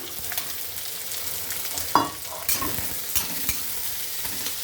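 Onions sizzle and crackle in a hot pan with scrapes of a stirring utensil, a steady fry punctuated by a few louder spatula strokes, close and with no talking.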